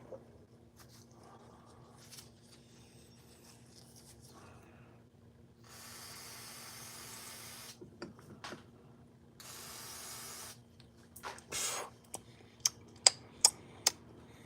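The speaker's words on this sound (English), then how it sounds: "we're getting crazy over here with the carb cleaner today" Carburetor cleaner sprays from an aerosol can in two steady hissing bursts of several seconds each, fairly quiet and close, followed by a few sharp ticking clicks.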